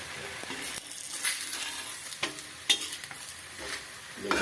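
A thepla flatbread sizzles in oil on a hot griddle, a soft crackling hiss broken by a few sharper scrapes and stirs from a spatula, all close and at moderate loudness.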